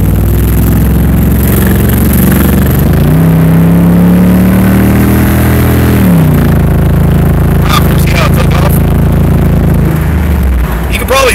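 A GMC Yukon fitted with glasspack exhaust accelerating uphill, a loud, continuous, deep engine drone that rises in pitch as it revs, heard from inside the cabin with road noise and someone talking over it.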